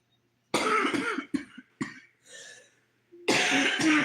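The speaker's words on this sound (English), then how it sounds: "I hate coughing." A person on a livestream coughs in several harsh, loud bursts separated by short gaps, with a throat-clearing sound in between and a final long coughing fit, close to the microphone.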